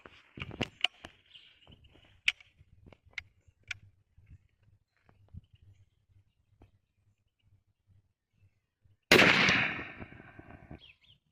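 A few faint clicks and taps, then one loud, sharp blast from a FAIR SLX800 shotgun firing a Remington 36-gram No. 5 shell with full choke near the end, ringing out and fading over about two seconds.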